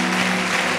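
Church congregation applauding during a service, a steady dense wash of clapping filling the whole moment at moderate level with no voices over it.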